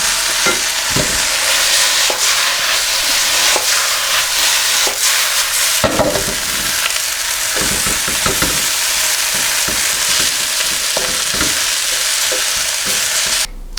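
Vegetable chow mein stir-frying in a hot pan, a loud continuous sizzle and hiss with scraping and tossing sounds from stirring, no talking.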